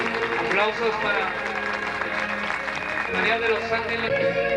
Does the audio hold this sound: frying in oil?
no